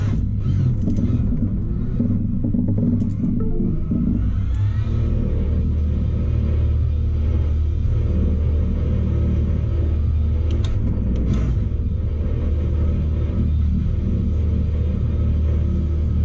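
A race car engine in the Le Mans Ultimate game, heard as a loud, steady, low rumble that stays constant for the whole stretch, with a few faint higher blips and no talk.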